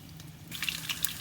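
Quiet background gives way to a sudden burst of sizzling and crackling as garlic hits hot cooking oil in a wok for Malaysian chicken curry, popping irregularly close by.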